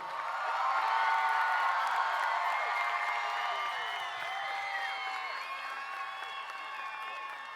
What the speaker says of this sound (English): one more round of applause for our class of 2022